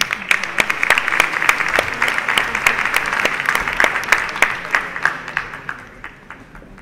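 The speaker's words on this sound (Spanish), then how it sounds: "Le damos la bienvenida con un fuerte aplauso" Audience applause welcoming a speaker at a Peruvian lecture on building the republic, steady dense clapping that thins out toward the end as it fades.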